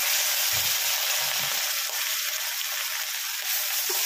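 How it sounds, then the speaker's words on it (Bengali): Pabda fish rubbed with salt and turmeric frying in hot oil, a steady bright sizzle throughout with a couple of low bumps as pieces settle into the pan. "এবার একটা একটা করে ভেজে নেব"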